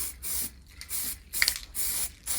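Aerosol spray paint goes on a motorcycle part from a Honda VFR400 NC30 restoration in light coats, short hissing bursts of roughly half a second separated by brief pauses, close and fairly loud, with no talking.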